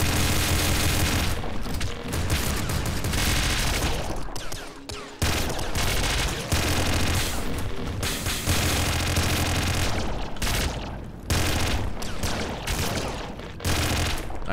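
Rapid, dense weapon fire pounds almost nonstop in the video game Nuclear Throne, a loud wall of shots and booms broken only by a few brief gaps.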